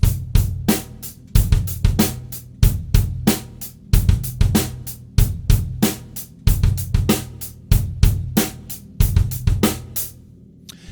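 A drum kit plays a funk-rock groove, kick drum notes landing in a varied pattern against a steady, unchanging hi-hat; loud, close and repeating evenly throughout with no talking.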